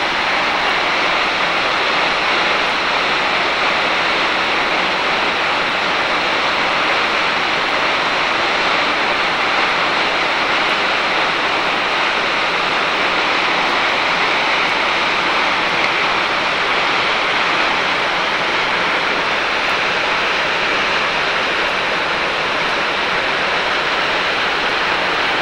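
Water gushes out with great force near rough, ocean-like water, a loud, unbroken roaring rush that fills the whole stretch without letting up.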